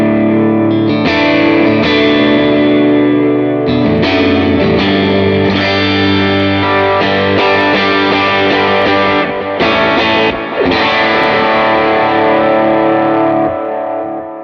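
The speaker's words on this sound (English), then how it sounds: "You've got a quarter and dotted eighth ping-ponging back and forth in stereo" Electric guitar through a Line 6 Helix patch with dual quarter and dotted-eighth delays bouncing between stereo sides: loud, distorted chords with dense repeating echoes that blur into a continuous wash, with no talking.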